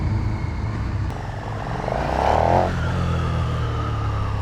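A 2020 KTM Super Duke R with the LC8 engine accelerating hard in first gear, front wheel lifting, as a steady engine roar under wind noise rises in pitch and swells midway.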